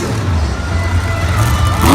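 El Toro Loco monster truck, driven by Kevin Crocker in a Monster Jam freestyle at Raymond James Stadium in Tampa, throbs with a loud, close, continuous engine drone that surges slightly near the end.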